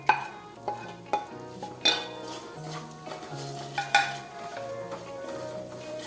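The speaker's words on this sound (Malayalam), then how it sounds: "നന്നായിട്ടൊന്ന് മിക്സ് ചെയ്ത് കൊടുക്കാം" Spoon stirring ginger and turmeric in a pan for an Onam ginger curry, with repeated scraping strokes and metallic clinks against the pan over a soft sizzle, close and alone.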